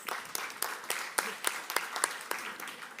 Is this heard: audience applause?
yes